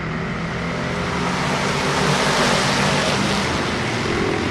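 A Crate Sportsman race car pulls away at the start of a 20-lap race, heard from inside as a loud, unbroken engine and road roar that fills the whole stretch with no voices.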